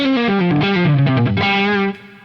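A heavily distorted electric guitar through a non-master-volume Marshall valve amplifier plays a short descending run of sustained notes, gritty and loud, then cuts off.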